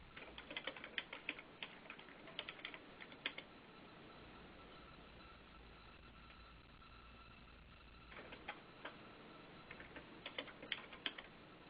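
Bursts of keyboard typing, quick clustered clicks at the start and end with a quiet stretch in between, close and fairly soft.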